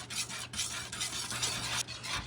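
A spoon scrapes and rubs through an unheated cornmeal mixture in a pot, in steady close strokes with a couple of brief pauses and no talking.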